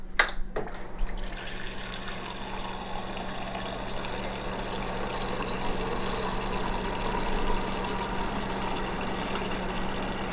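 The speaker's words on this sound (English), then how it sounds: "so I am going to do 2 cups of water" Filtered kitchen tap water running steadily to fill cups, a continuous close hiss and splash lasting throughout with no talking.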